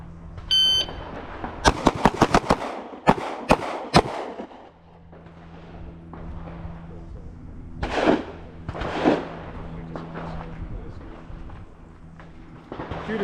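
Handgun shots on an outdoor range during a concealed-carry skill drill, a beep followed by a quick burst of sharp, loud cracks, then more scattered single shots with gaps between them over a low background hum.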